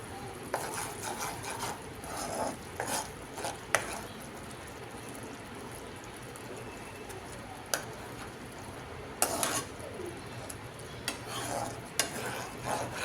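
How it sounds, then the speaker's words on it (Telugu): Coriander powder and garam masala being stirred into an Afghani egg curry in a pan, with scattered scraping and clinking of the spoon over a low, steady sizzle, close by. "ధనియాల పొడి, ఇంకా గరం మసాలా ఇప్పుడు ఒకసారి కలిపిద్దాం"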